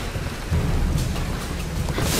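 A stormy scene in the video game Tomb Raider, with heavy rain hissing steadily as a low, rumbling roll of thunder swells and lingers beneath it.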